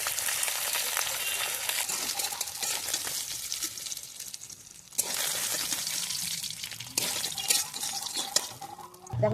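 Mustard oil sizzles in a hot wok, with hissing bursts that swell and ease and light clatters of a spoon against the pan, close and alone.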